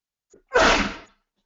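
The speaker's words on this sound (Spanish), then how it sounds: "estoy aquí hablando y me ha dado el estornudo" One loud, close sneeze bursts out after a faint intake of breath, then quiet.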